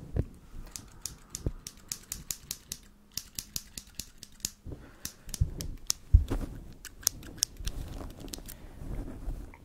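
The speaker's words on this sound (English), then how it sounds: "Are these craft scissors?" A rapid, uneven series of sharp snips and clicks, like scissors cutting through paper, close by, with some crinkling in between.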